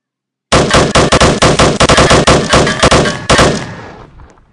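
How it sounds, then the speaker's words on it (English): Rapid machine gun bursts from a light machine gun variant of an AAV amphibious vehicle in Roblox Military Tycoon, loud and close with a dense rattling rhythm of near-continuous shots, briefly pausing before a final burst and a short fading tail. "there's a little machine gun variant of this"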